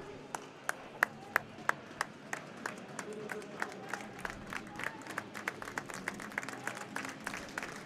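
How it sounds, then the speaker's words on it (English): Crowd at an ice hockey game during a goalie change breaks into steady applause, sharp scattered claps standing out over a dense rumble of hands, with a commentator's voice audible beneath. "you can hear the applause"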